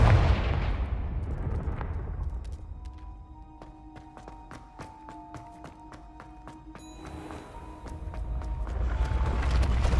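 Hogwarts Legacy game combat: a fiery Confringo spell explosion booms with a deep rumble, followed by a run of sharp tapping hits and faint ringing magical tones before another swell of rumble, with no talk.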